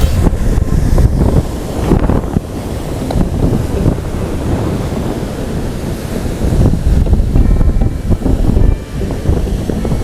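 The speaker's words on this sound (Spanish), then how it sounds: "El imponente y bello mar." Surf rolls and crashes steadily onto the sand at Las Peñitas beach on the Pacific coast of Nicaragua, with strong wind buffeting the microphone throughout. The roar is loud and continuous, and no one speaks.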